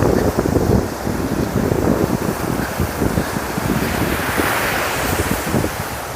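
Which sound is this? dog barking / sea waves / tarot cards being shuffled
sea waves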